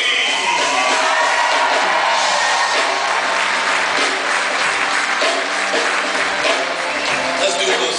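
A large concert audience at a live show cheers, screams and claps loudly and continuously, a dense roar of voices with whoops rising through it.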